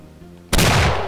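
A single loud gunshot from the video game Doom 2 bursts in abruptly after a quiet stretch of low ambient hum, ringing out close and sustained to the end without talk.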